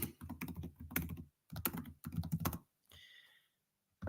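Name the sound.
typing on a computer keyboard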